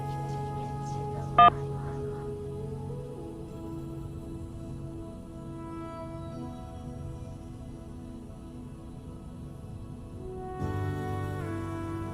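A single short phone keypad tone, the 1 key pressed to accept an incoming call, sounding once near the start over a quiet line with faint background hum and tones.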